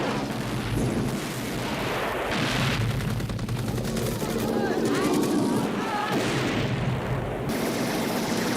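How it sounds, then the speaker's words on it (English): A Rambo film action scene where a helicopter lays a rocket barrage and machine-gun fire on a POW camp: a dense run of booming blasts and rattling gunfire at steady loudness. "John racks up the kill count by taking out an entire POW camp with a barrage of rockets and machine gun fire"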